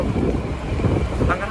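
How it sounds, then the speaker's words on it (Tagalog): Steady outdoor wind in Dubai rumbles and buffets the microphone throughout, with a broad low roar and no pauses. "Ang hangin."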